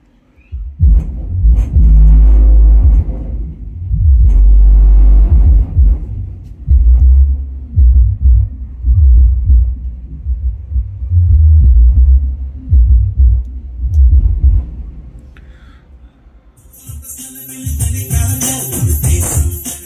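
Deep bass pulses from a TDA7265 2.1 amplifier driving a subwoofer, loud and thumping in repeated bursts with low rumble, ending with a brief hiss of high noise.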